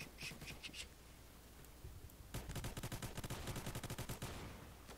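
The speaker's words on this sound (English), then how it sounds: "Shoot at the window. Shoot the guy out." Gunfire in the Roblox shooter Phantom Forces: a few scattered shots, a pause, then a long rapid automatic burst with a steady rhythmic rattle, faint and slightly distant.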